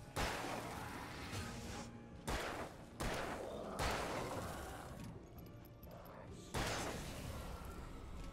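Gunfire in the video game Alan Wake: several loud, sharp bursts of shots separated by brief pauses, each decaying with a ringing tail, no speech.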